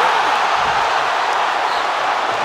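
Crowd roar fills an arena during a Blazers vs. Lakers basketball game, a steady, dense wash of cheering voices held at an even, loud level throughout.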